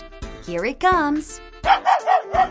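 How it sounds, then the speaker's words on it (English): Cartoon dog barks about four times in quick succession from the noise box in a Mickey Mouse Clubhouse kids' game, following a brief spoken line. "A dog."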